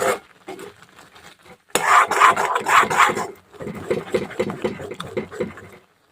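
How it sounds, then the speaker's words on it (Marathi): A utensil scrapes and rasps steadily against a pan while dosa batter mixture made with bhagar is stirred in oil, close and continuous with brief pauses, and someone talks faintly underneath. "दोन ते तीन मिनटं असंच ढवळत राहायचं मिश्रण म्हणजे खाली चिटकणार नाही"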